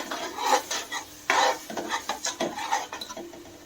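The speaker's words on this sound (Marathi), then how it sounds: "आता यामध्ये आपण जो बरिस्त केलेला आहे कांदा तळलेला तर तो घालून घेऊया आणि चांगलं परत एकदा परतून घेऊया" Spoon stirring fried onions into a masala for prawn biryani, scraping and clinking against the pot in uneven bursts, with a faint sizzle beneath; no talking.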